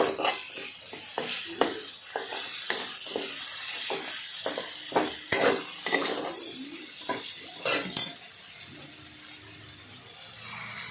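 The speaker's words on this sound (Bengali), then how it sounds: "আমি এখন সেটাকে ভালোভাবে নাড়াচ্ছি" A spoon scraping and clinking in a pan of amodee fish curry over a steady frying sizzle, with irregular metallic knocks that thin out toward the end.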